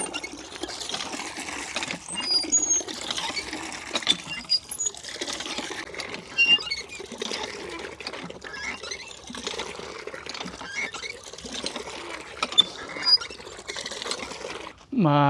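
Water pump on a mini farm, newly repaired, runs with a steady mechanical chatter while water pours and trickles continuously beneath it.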